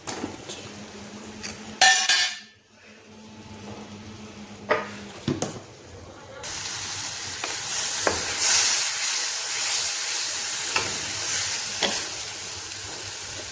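Tomatoes drop into a hot pan with a few clinks of a utensil against the metal, then a steady, bright sizzle of frying builds up close and continues to the end.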